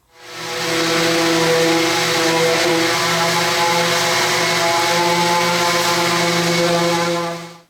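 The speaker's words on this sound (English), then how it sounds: "take a random orbital sander to this thing, and we're going to sand this one down to 220 grit" A random orbital sander runs steadily across a wooden vegetable bin carcass, smoothing it to 220 grit, with a loud continuous whirring drone and strong steady hum tones from start to finish.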